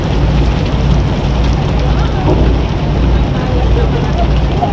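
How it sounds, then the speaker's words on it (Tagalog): A heavy downpour roars in a thick, unbroken wash of noise, loud and close, with large drops falling steadily and no clear voices over it. "Bumuhos na uli ang ulan."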